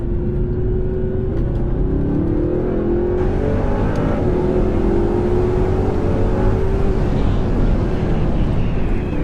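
Audi R8 engine pulling hard through curves on a mountain road, a loud continuous rising and falling roar as it accelerates, heard from inside the car with no talking.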